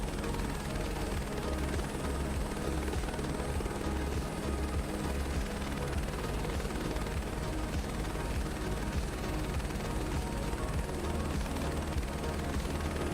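Engines of a Boeing C-17 starting up in Microsoft Flight Simulator 2024, a dense steady roar with a rapid low thumping pulse and a thin high whine running throughout, constant and loud with no voices.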